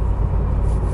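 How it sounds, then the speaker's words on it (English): Low, steady engine rumble from a Ford Escort RS Cosworth, heard from inside the car as the driver heel-and-toes through a downshift on a twisty road; a short, dense drone with no talking. "I managed to do my heel and toe there"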